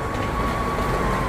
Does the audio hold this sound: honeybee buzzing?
no